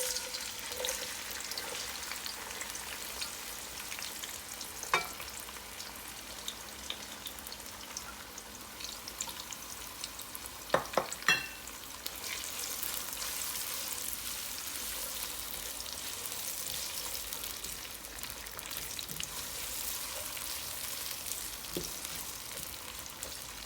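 Chopped onions frying in hot oil in a pot for a Bengali prawn and watermelon-rind curry, a steady broad sizzle running throughout with a few sharp clicks and stirring knocks partway through.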